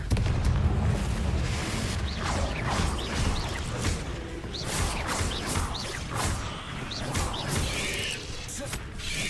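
Repeated booming blasts and whooshing spell bursts from Confringo and other combat magic in Hogwarts Legacy, several punchy explosions spaced a second or two apart over a steady rumbling battle bed.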